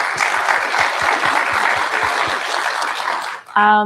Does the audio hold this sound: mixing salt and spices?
no